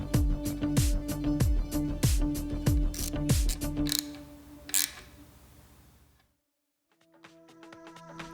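A ratchet clicks in rapid bursts while tightening the fork clamp bolts on a 1992 Suzuki RM250 steering assembly, close and crisp, then falls quiet before a few fainter clicks and tool sounds.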